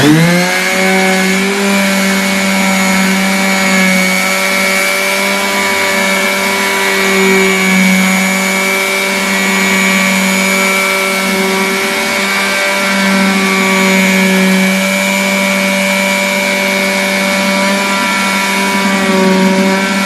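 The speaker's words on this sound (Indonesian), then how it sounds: "ini permukaan kayu yang akan kita amplas" A steady, droning electric sander whines continuously at close range on wood with a buzzing harmonic tone, holding a constant pitch throughout without pauses.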